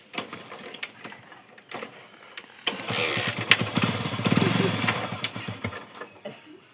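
A motorcycle engine revs up loudly partway through, running rough and close, with scattered voices and background clatter before it starts.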